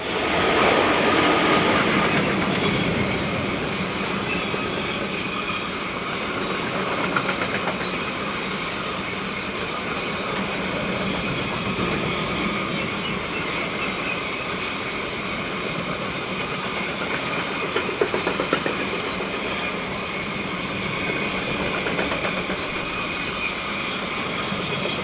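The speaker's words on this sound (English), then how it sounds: "Time for a bit more freight and a pair of RE66 Class 620s, numbers 15 and 30, on what looks like another Red Bull soft drinks train" A freight train of Red Bull soft drink wagons hauled by two Swiss RE66 Class 620 locomotives rumbles past steadily on the Sargans to Zürich mainline, with rhythmic wheel clatter and some wheel squeal, loud at first and then holding a constant roar.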